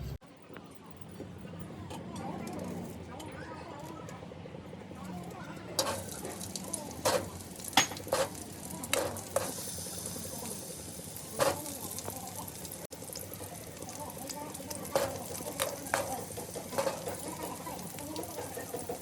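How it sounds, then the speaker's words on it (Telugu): Onions fry on a medium flame in a pan while a chutney is being made. A steady sizzling hiss is broken by irregular clinks and scrapes as they are stirred, and a person talks over it. "ఈ ఉల్లిగడ్డలు కూడా మీడియం ఫ్లేమ్ పెట్టుకొని ఫ్రై చేసుకోవాలి."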